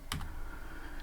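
A couple of crisp keystrokes tap on a computer keyboard close by while a Python border setting is typed, followed by quiet.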